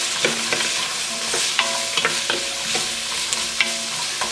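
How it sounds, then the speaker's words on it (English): Vegetables sautéing in a soup pot for Ribollita, a steady close sizzle broken by repeated scraping stirs and clinks of a utensil against the pot, with no talking. "You just want to sweat these out just a little bit."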